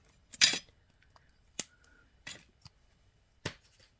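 Several sharp, separate snips of cutters biting through beading wire while an Amazonite necklace is strung, each cut crisp and close with quiet pauses between.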